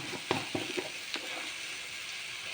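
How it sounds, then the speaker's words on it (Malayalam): Okra stirred in a pan before chaat masala goes in, a soft continuous sizzle with a few quick scraping clicks of the spoon early on, then quieter frying, no speech. "എന്നിട്ട് നന്നായി ഇളക്കാം"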